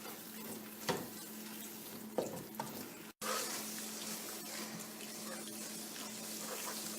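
Spices such as cloves, cinnamon and black cardamom fry in oil for chicken masala, giving a steady close sizzle with occasional stirring scrapes and a brief break partway through.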